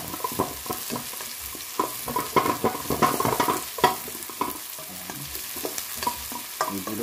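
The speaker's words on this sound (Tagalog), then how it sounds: "Lutuin lang po natin konting sibuyas." Onion sautés in a pan for pork asado, with rhythmic spatula scrapes and stirring over a crackling fry, close and clear, without speech.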